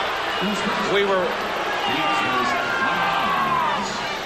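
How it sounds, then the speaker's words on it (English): A basketball arena crowd in a 1991 Bulls–Pistons playoff game keeps up a rhythmic chant of defense, a broad steady roar with rising and falling voices and a whistle underneath. "Chant of defense from the crowd, and the whistle underneath."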